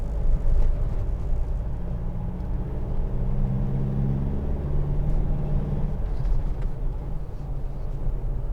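A 2014 Mitsubishi L200 2.5 DI-D pickup's diesel engine pulling uphill at just over 1,000 rpm, a steady low thudding rumble heard from inside the cab, continuous and moderately loud.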